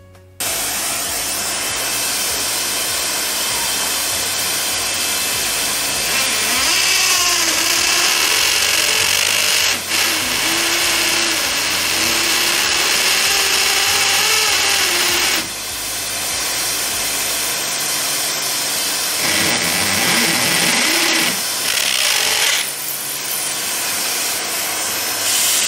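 A power drill bores into a wall for small plugs to hang light pictures, giving a loud, close, continuous grinding whine that shifts in pitch and briefly dips partway through, with no speech.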